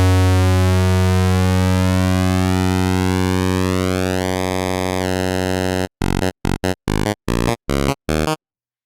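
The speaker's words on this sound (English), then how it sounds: "Now we're going to change that pulse width to get this narrow sound." Zebra2 software synth square wave with its pulse width narrowed, a sustained buzzy tone whose harmonics sweep upward, then chopped into short rhythmic bursts.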